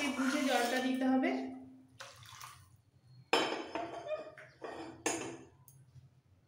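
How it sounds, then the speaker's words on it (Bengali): Hot water is poured into an okra and potato curry in a pan, splashing in several short bursts with pauses between, after a voice speaks briefly at the start. "এবার দিয়ে দিচ্ছি গরম জল।"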